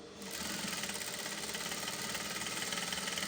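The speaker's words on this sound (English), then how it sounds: "So I'm going to sew on top of my pocket again." A sewing machine stitching over a trouser side pocket, running steadily with a fast, even mechanical chatter from start to finish, close and fairly quiet.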